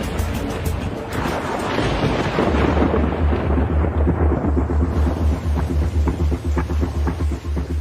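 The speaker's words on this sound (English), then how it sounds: "the skies open up and a powerful monsoon storm strikes." Deep rolling thunder from a powerful monsoon storm, a continuous loud low rumble with a sustained heavy drone through the later part, no voices.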